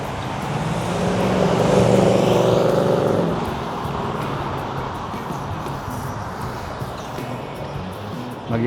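A car passes on a road at night, its engine and tyre roar swelling close by then fading into quieter roadside traffic noise.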